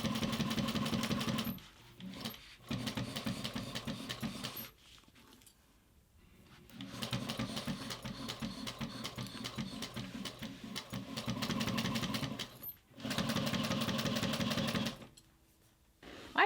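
A Juki 1541S industrial sewing machine bastes through nylon with a fast, steady mechanical chatter. It runs in long bursts that stop briefly and start again, and it is loud and close with no talk.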